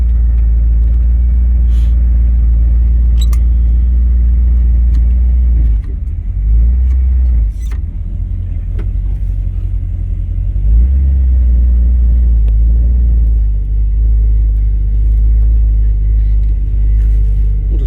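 A freshly restored 1956 Chevrolet two-door post car runs with a loud, steady low engine rumble throughout, dipping slightly midway before settling back, with no talking.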